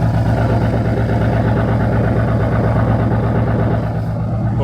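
A project car's engine idles steadily with a constant low exhaust rumble, loud and close, unchanging throughout with no talking.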